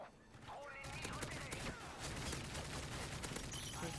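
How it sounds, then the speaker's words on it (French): Gunfire in the video game Modern Warfare 3, a dense continuous wash of rapid shots and loud battle noise that runs throughout and barely eases, with a player's voice mixed in. "le mec il a tiré, je sais pas combien de balles, il a tiré tout à côté avec son trajectoire"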